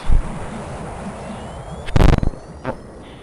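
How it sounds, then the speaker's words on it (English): A planet exploding in Metroid Fusion, heard as a sharp, loud burst of blast noise with a rumbling tail and a smaller follow-up pop, set against a low rumbling game background. "an entire planet exploded because of a measly tiny space station"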